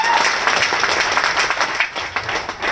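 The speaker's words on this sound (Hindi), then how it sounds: "एक बार इनके लिए जोरदार ताली हो जाए।" Dense applause from a live audience at a direct-selling network marketing gathering, a steady wash of many hands clapping close and loud for the full stretch with no talk over it.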